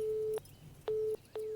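A phone call returns a busy signal: three steady beeping tones, each about a third of a second long and separated by pauses, sounding clear and alone.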